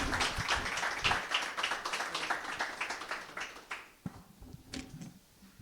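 Audience applause at a GSEA Awards 2026 ceremony, the Spanish final at Bcombinator, with a dense burst of clapping that fades out over a few seconds, briefly sparse near the end.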